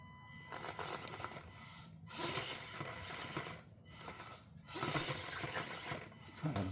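An Axial SCX24 RC crawler drives over a bridge, its small geared motor whirring and ratcheting in repeated short bursts, faint and close, with brief pauses between pushes.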